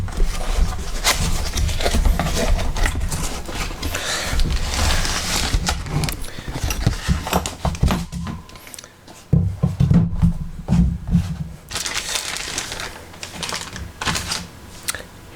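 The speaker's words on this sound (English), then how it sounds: "So let's go ahead and just unbox this." Cardboard and plastic packaging for a Steadicam AIR spreader monopod base rustle, crinkle and tap nearby during unboxing, with steady handling noise and a quieter stretch midway.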